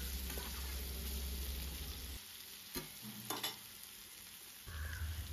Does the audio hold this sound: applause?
no